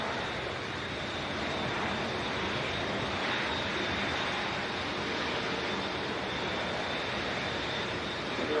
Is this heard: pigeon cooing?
no